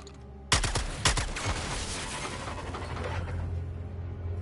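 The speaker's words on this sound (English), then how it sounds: "We might be able to get up top if we shoot the junction box." Two sharp gunshots ring out close together in the Suicide Squad: Kill the Justice League game as a junction box is shot, followed by a dense rumbling clatter and a low mechanical drone.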